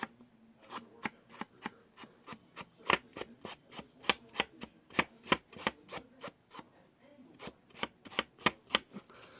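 Paper edges being roughed up with ink while making a post-it note pad cover, a brisk, regular series of dry scraping strokes, close and fairly quiet, continuing for several seconds with no talk.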